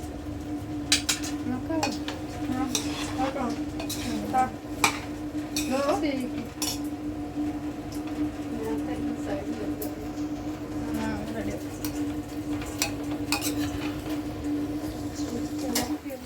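Basmati rice mixed in a pot for restaurant-style chicken biryani, with repeated metal spoon scrapes and clinks against the pot over a steady low hum, under a person talking.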